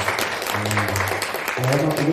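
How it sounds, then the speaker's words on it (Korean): An audience at a book concert in a central library in Ansan applauds after a band's performance, a steady wash of clapping running underneath a voice talking over it. "다시 한번 큰 박수 부탁드리겠습니다."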